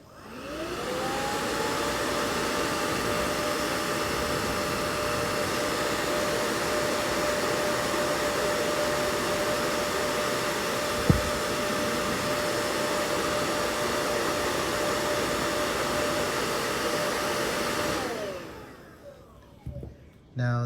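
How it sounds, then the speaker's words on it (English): A hair dryer blows steadily and loudly on a Canon Speedlite 320EX flash after a battery acid leak, with a constant whine and airflow roar for about eighteen seconds before it switches off, leaving faint handling noises. "I'm going to use a hair dryer and at least try to make the drying go by a little bit faster"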